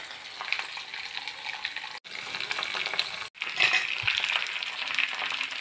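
Okra pieces fry in a pan, giving a steady close sizzling hiss with brief breaks where more pieces are added, and no talk.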